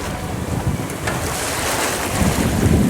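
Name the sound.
wind on a sailboat at beam reach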